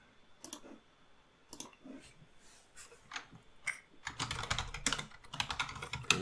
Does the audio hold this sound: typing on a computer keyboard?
yes